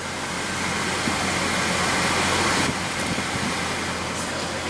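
A 2015 Audi A3's 1.8-liter turbo four-cylinder engine runs with a steady, low hum, even and unbroken, with a faint rumble and no voices.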